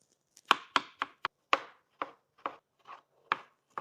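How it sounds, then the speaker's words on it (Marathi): Tomatoes chopped with a knife on a board: about a dozen crisp, close, fairly quiet chops in an uneven rhythm, with no other sound between them. "आपण आता टमाटर कट करून घेऊ."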